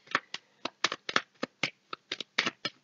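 Playing cards are handled and laid down as a card is placed over the 8 of spades. Crisp, close snaps and flicks come in an irregular run of about a dozen quick strokes with brief gaps between them.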